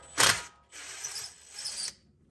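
A ratchet works bolts loose on the stator cover of a 2008 Honda TRX500FM ATV, giving one sharp clicking burst followed by two longer bursts of ratcheting, close and alone.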